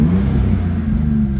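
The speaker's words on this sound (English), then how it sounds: "It's got the, rocks the whole vehicle with that custom exhaust." A 2001 Ford Mustang with a 3.8L V6 and custom exhaust idles close by, giving a steady, loud, deep rumble with no talking over it.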